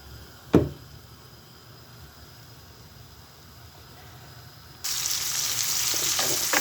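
Liver sautés in oil in a pan: a single sharp knock comes first, then after a few quiet seconds a loud, steady frying sizzle starts suddenly and continues up close.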